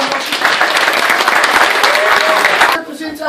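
Loud, dense applause from a visiting crowd at a Māori cultural village welcome, sustained for nearly three seconds before dropping off abruptly, leaving faint room tone.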